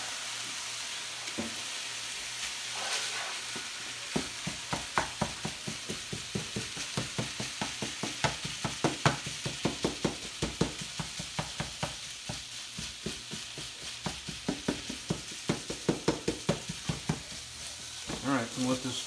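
Sausage and ham frying in a pan for a casserole, a steady close sizzle punctuated by regular rhythmic scraping clicks of stirring through most of the stretch, with no talk.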